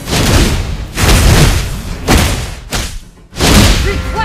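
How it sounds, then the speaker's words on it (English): Explosions as a turret is destroyed in the mobile battle arena game Mobile Legends, heard as a run of loud, heavy booming thuds close up, separated by short gaps, with a near-silent dip just before the last blast. "turret has been destroyed"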